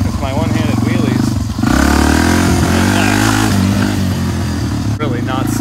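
A Yamaha TTR250 air-cooled dirt bike engine revs loudly and steadily up close, its pitch rising and falling through several throttle blips, with a brief dip near the middle and another near the end.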